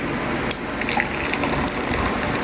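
Hot water is poured into a cup, a continuous close gushing and filling sound with a short break midway, loud and steady throughout.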